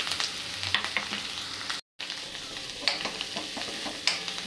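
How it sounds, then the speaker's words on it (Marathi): Cumin seeds sizzling in hot oil in a pan: a steady close crackling fry with sharp spatter pops and light scraping, broken by a brief moment of silence. "तेल तापत आलं की आपण त्यात टाकूया जिरं"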